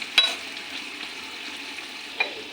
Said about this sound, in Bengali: তেলটা গরম হয়ে গেছে পেঁয়াজ আর কাঁচা লঙ্কা দিয়েছি